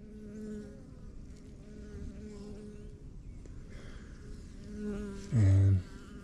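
A close honeybee buzzes loudly in an almond orchard where foraging bees have been hit by pesticide spray. A steady insect drone hums throughout and swells sharply near the end as a bee passes right by.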